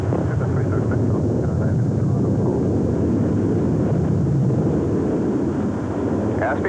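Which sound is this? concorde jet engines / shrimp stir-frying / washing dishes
concorde jet engines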